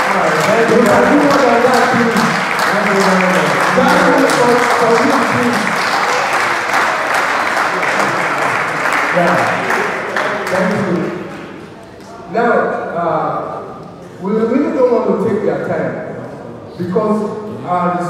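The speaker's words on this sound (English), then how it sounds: "applause for our speaker, please." Audience applause for a speaker at a TAMPAN guild of directors workshop in Lagos, a dense crowd clapping steadily for about ten seconds before thinning into scattered claps beneath a voice speaking.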